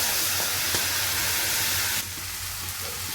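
Onions and tomatoes fry in a pan for a channa masala gravy, giving a continuous close hissing sizzle with a few small pops that drops slightly in loudness partway through.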